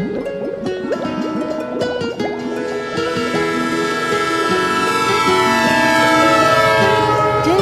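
A train runs steadily along the rails as a radio drama sound effect, a dense, continuous rumble with tonal, horn-like layers that grows slightly louder toward the end, with no voices.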